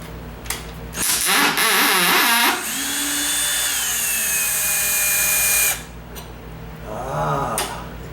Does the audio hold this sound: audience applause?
no